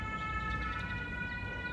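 A fire engine siren wails steadily outdoors, a sustained tonal siren at moderate distance heard alone without talk.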